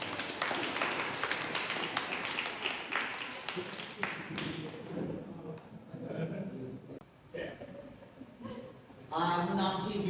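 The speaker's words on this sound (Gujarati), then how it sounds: "ફરીથી તાળીઓ પાડીએ" An audience applauds, a dense crackle of clapping up front that thins out midway, followed by someone speaking.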